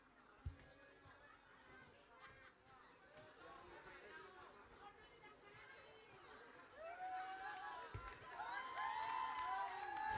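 Audience at an evening community entertainment show in Tarutung, North Sumatra, with crowd chatter swelling into cheering and applause that grows louder toward the end, plus occasional whistles.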